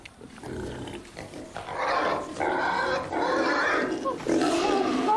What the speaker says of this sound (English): Pigs can be vicious creatures.